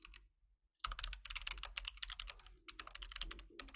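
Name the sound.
typing on a computer keyboard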